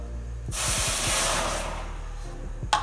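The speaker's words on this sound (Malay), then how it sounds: "Jadi saya akan isi air panas dulu" Hot water pours steadily into a container for a thermodynamics lab experiment, a loud broad rushing hiss lasting about two seconds with gurgles at the start and a sharp knock at the end.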